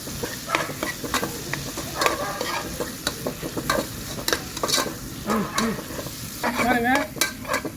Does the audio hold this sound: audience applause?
no